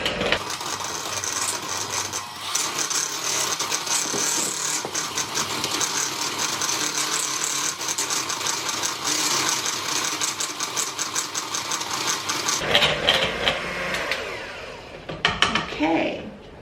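An electric hand mixer whirs steadily through banana bread batter with baking soda and salt for about twelve seconds, then stops, leaving kitchen clatter and brief movement sounds.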